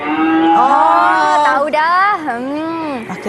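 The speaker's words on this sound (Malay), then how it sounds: "ini bunyi lembu" A cow gives long, loud, drawn-out moos with a wavering pitch, close up, while a person speaks over part of it.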